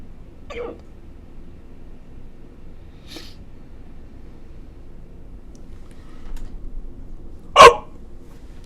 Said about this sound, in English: the hiccups got me